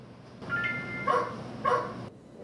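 A virtual robotic puppy in a New York dog museum gives a few short yelping barks on command, a soft tonal whine followed by two clipped barks, close and fairly quiet indoors.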